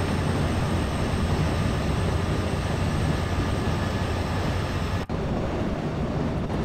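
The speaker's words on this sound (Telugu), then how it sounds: "ట్యాంకర్ ట్యాంకర్ ట్రైన్ వెళ్ళిపోతుంది." A tanker train rolls past in an Indian train simulator game, a sustained loud rumble of wagons on the track that drops off briefly near the end and then continues somewhat thinner.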